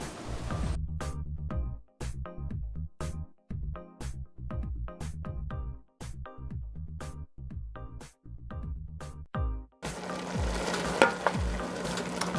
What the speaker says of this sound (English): I'm going to let this cook for about 20 minutes until the Brussels sprouts have softened